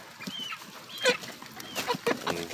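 Chickens being fed fish give short clucks and squawks close by, in brief scattered bursts over faint background noise.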